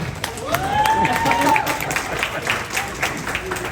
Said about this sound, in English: one more round of applause for your bride